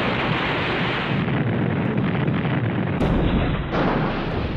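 U.S. warships firing their guns in the naval game World of Warships, a loud, dense and continuous rumbling roar of heavy gunfire with sudden sharp shifts in intensity.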